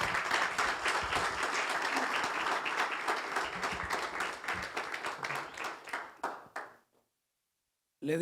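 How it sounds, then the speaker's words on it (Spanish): Congregation at a church service bursts into sustained applause that fills the room, dense clapping fading out near the end before a brief restart. "¿Cuánto le dan un aplauso al Señor por ello?"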